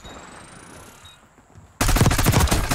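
Gunfire in the Search & Destroy video game bursts in suddenly after a quiet stretch, a dense, loud volley of rapid shots that fills the rest of the moment, with no talking.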